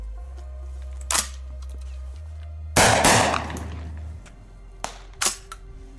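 A 12 gauge SCAR shotgun fires outdoors, with one loud blast ringing out in the middle and several sharper, quieter reports before and after it, set over a low steady hum.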